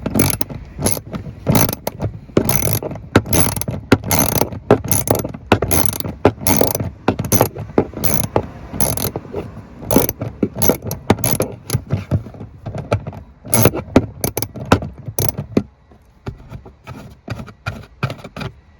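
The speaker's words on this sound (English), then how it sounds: "So now I'm gonna go ahead and get that 7mm ratchet. We're gonna go down here and loosen this bolt down here." A 7mm ratchet loosens a bolt while a Vector Offroad JKE-Dock is installed on a Jeep, giving a long run of fast, close, sharp ratchet clicks in steady bursts that thin out near the end.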